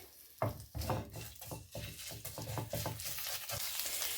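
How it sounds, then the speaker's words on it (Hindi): Ginger paste and chana dal roasting in a pan for masala dosa filling, with close, uneven scraping and stirring clatter over a soft continuous sizzle. "आधा छोटा चम्मच यहाँ पर लिया है मैंने अदरक का पेस्ट, ये इसमें जाएगा। इसे हम अच्छे से भून लेंगे।"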